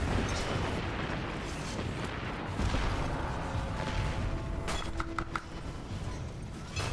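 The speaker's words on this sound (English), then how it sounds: "Explosions everywhere." Explosions burst in the video game Destiny 2 Forsaken as a dense, continuous rumble of booms and blasts, loud and sustained, with a few sharp crackling hits near the end.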